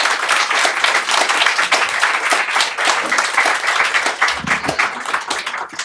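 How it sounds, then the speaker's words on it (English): A lecture audience welcomes the speaker Douglas Rushkoff onto the stage with sustained, dense applause that stays loud and steady throughout and only thins slightly near the end. "please give him a warm applause"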